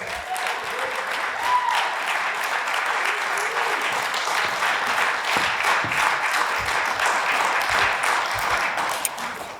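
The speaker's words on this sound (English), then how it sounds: "Can we give them a round of applause?" An audience gives sustained applause at a student leadership awards ceremony, a dense, even roar of many hands clapping for nearly ten seconds with a few faint voices mixed in.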